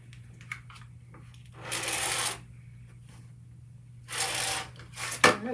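Fabric quilt pieces being cut along marked lines, two distinct bursts of rasping, swishing cutting about two seconds apart over a faint steady hum, followed by a brief clatter at the end.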